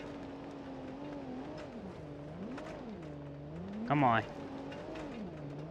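Land Rover Defender engine in BeamNG Drive, revving and rising and falling in pitch over steady rumble while stuck off-road with diffs locked; someone speaks briefly over it, and a short louder burst comes near the end.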